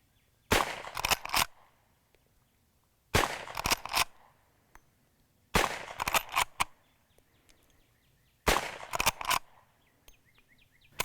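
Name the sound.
rapid gunfire from Rossi Model 92 .357 lever-action rifle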